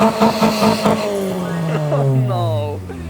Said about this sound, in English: has to rev Civic for 5 seconds in each country